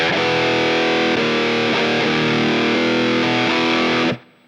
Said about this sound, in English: I'm going straight into the Digitech Whammy right now